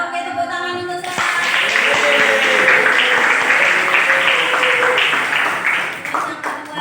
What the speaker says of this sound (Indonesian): tepuk tangan untuk Sela